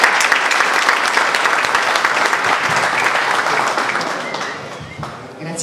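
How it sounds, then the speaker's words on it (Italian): An audience at a football club's season awards ceremony in Lecce applauds, dense continuous clapping that holds steady and then tapers slightly near the end. "Un applauso."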